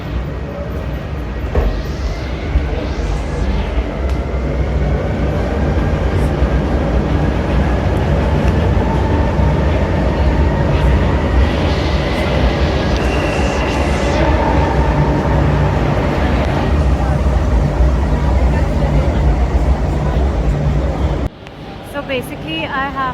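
Train at a station near Barcelona, a continuous loud rumble and rolling rail noise with occasional squealing tones, running steadily before cutting off near the end, with people talking over it.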